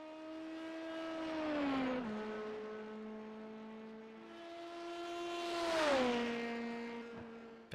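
Sports race car at Monza, its engine pitch climbing through gears with shifts, then a second pass rising louder with a sharp Doppler drop as it crosses the finish line, close and alone.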